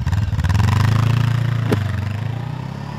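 A Voge 500 AC motorcycle engine chugs loudly, then revs up and pulls away in first gear, its throbbing note steady before easing off slightly as it moves off.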